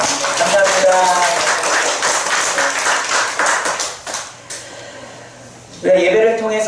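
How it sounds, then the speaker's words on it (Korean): A church congregation at a Sunday worship service claps to welcome a member, a close burst of applause lasting a few seconds before fading, with a voice speaking over and after it. "우리 박수로 환영하겠습니다"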